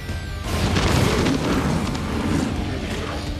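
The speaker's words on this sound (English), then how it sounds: "An airstrike has been called." Airstrike explosion in the video game Crisis Core: Final Fantasy VII Reunion, a loud, sudden, deep boom that hits after a brief quiet and rolls into a long rumbling, crackling blast that slowly fades.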